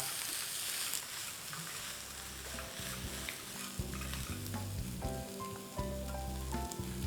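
Food sizzles steadily in a hot frying pan while a utensil mixes rice with diced pineapple, raisins, cashews and toasted coconut, scraping and stirring with repeated clanks against the metal, close and continuous.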